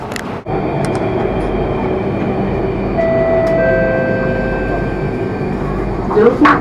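Singapore MRT train running on the metro line on a rainy day: a steady, close rolling rumble with a rising electric motor whine partway through, ending in brief clatter.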